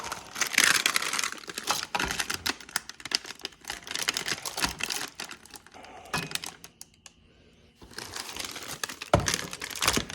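Plastic wrapping crinkling around a motorcycle exhaust head pipe on a Honda CRF300L, loud close rustles and crackles in irregular bursts with a short quieter pause midway.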